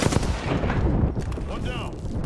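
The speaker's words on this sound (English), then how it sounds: "Signaling an airstrike. Airstrike." Airstrike explosions pound in Apex Legends, a dense barrage of loud booms and cracks rolling together without a break, with game voices faintly mixed in.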